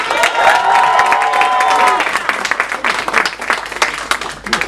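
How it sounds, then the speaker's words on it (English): A live audience at the GUTEGA AMATWI event bursts into applause and cheering for a performer, loud and close at first, then thinning into scattered claps, with a voice heard early on. "Can I please get a round of applause for Melissa?"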